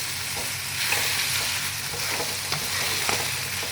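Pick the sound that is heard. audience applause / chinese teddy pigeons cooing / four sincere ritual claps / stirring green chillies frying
stirring green chillies frying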